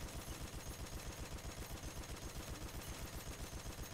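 Toy turrets firing at enemies in the Toy Soldiers: War Chest video game, a dense, rapid, loud stream of evenly spaced shots that runs continuously throughout.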